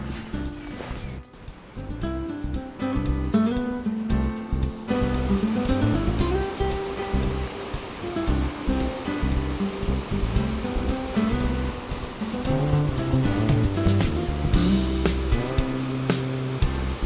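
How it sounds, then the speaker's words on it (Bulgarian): Muddy water pours steadily over a weir on a river, a constant rushing roar heard alongside other tonal sounds that run through the whole stretch. "Ето това е въпросният бент на река"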